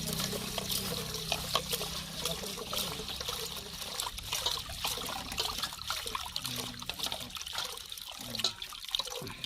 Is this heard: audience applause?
no